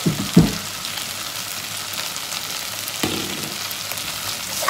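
Peppers sauté in a pan with a constant close sizzle, punctuated by a couple of stirring knocks near the start and again around the three-second mark.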